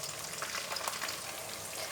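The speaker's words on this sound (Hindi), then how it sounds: "बैंगनों को अच्छे तरीके से फ्राई करेंगे, कलर चेंज होने तक इसे फ्राई करेंगे।" Brinjal pieces fry in hot ghee in a pan, a steady close crackling sizzle that stays even for the short stretch, with no speech.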